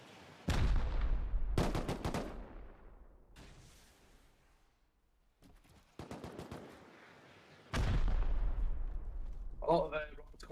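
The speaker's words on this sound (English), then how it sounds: "A lot of rockets coming in from the roof of Emperor just so they can clear some of the walls away" Bursts of rapid gunfire and booming rocket impacts erupt during a base raid in the game Rust, loud close volleys separated by decaying echoes, with voices talking briefly near the end.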